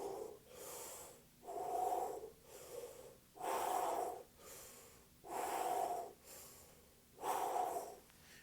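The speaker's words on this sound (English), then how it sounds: "we're just going to breathe in for 1 count and out for 1 count," Rhythmic breathing drill for low brass players, strong audible breaths alternating in and out at a steady one-count pace, five loud breathy swells close to the mic with quiet gaps between.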